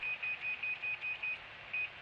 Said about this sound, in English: Any beeping indicates that the distance between the coach and forward vehicle is closing